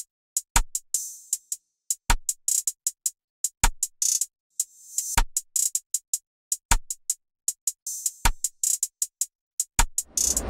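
A dark trap-style drum loop built in FL Studio: crisp hi-hats ticking in quick rolling patterns with sharp rim hits landing at regular intervals, loud and dry with no voices.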